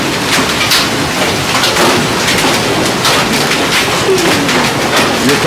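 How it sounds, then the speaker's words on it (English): Baseball-size hail pounds down during a storm in Oklahoma City, a loud, dense and continuous clatter of hard impacts with some sharper cracks standing out through it. "Baseball size hail. They're bouncing 15 feet in the air when they hit that."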